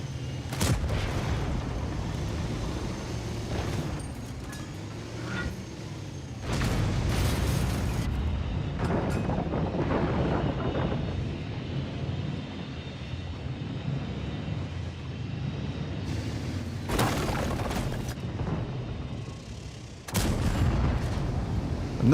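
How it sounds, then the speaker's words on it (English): Explosions and heavy cannon fire in a tank combat game, loud booming blasts striking at intervals over a constant rumbling engine and battle background, with no speech. "Big kaboom."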